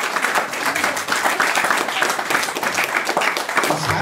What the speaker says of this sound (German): ja, gerne noch Applaus.